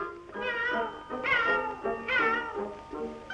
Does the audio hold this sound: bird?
no